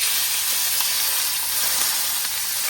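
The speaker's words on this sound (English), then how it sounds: "In a pan, got some olive oil. Then I want to go in with my minced beef first." Minced beef sizzles in olive oil in a pan, a close, constant hissing fry that holds steady throughout with faint crackles.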